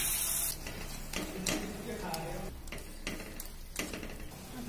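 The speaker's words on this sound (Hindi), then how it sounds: "अब हम इसमें कोकोनट मिक्स कर रहे हैं।" Paneer and desiccated coconut are being stirred in a pan for coconut ladoo, with a soft sizzle under repeated scraping strokes and light clinks of a utensil against the pan, fairly close.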